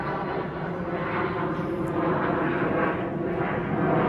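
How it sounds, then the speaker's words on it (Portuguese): An airplane passing overhead, a steady broad engine roar that swells slightly and holds, outdoors with no voices. "Avião passando é por uma boa causa."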